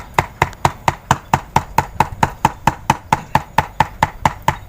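A knife minces fish rapidly and steadily on a cutting board, sharp evenly spaced thuds about four per second, close and loud with no voices.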